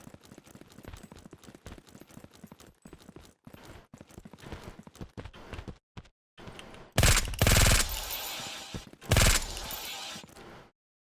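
Bursts of rapid SMG fire in a shooter video game: a stuttering run of quieter rattling shots, then two loud, dense bursts near the end with short gaps between them.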